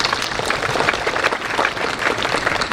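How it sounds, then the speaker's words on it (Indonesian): Dense audience applause fills a hall at an Indonesian event announcing an Asia-Pacific festival, a steady, loud wash of many hands clapping together throughout with no pauses. "tepuk tangan dulu buat kita semua."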